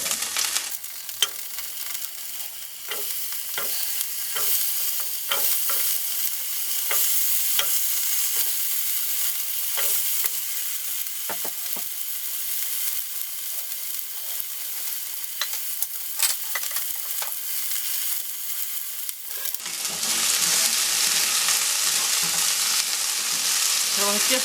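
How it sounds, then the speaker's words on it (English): Potatoes with garlic fry in a hot pan, a steady close crackle and hiss with scattered pops and occasional stirring clicks, swelling into a louder, denser sizzle near the end. "I basically want to cook these through and get the skins nice and crunchy."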